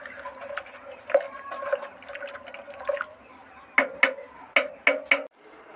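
A stick churns liquid cow dung fertilizer in a container, giving wet sloshing and gurgling strokes that turn into a run of sharper splashing pulses in the second half.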